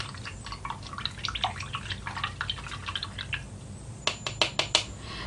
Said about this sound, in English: now I'm going to wash off my small paintbrush